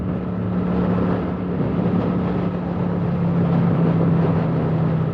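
Kawasaki Vulcan 900 cruiser motorcycle riding on a cold day, a steady loud engine drone mixed with constant wind rush, with no voices.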